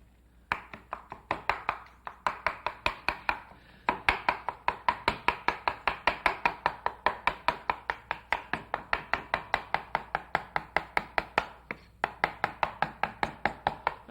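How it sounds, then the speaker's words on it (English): Knife chopping chilled jellied consommé aspic on a board, a long run of quick, even, crisp taps in steady rhythm with brief pauses, close and clear with no talk. "this jellied consommé, which has been chilled in a platter, and then you just dig it out. And then chop it up"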